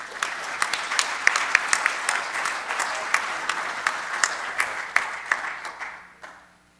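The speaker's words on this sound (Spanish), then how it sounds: "recibamos a Graham con un fuerte aplauso para que nos..." An indoor audience at a mining engineering seminar breaks into steady applause to welcome a speaker, dense clapping with a few louder claps, fading out toward the end.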